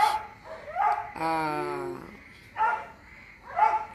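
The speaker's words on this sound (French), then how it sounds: "Désolée pour les voisins qui aboient." Several neighbours' dogs bark in short bursts a few metres off, with a long whining howl in the middle, over quiet indoor room tone and a brief voice.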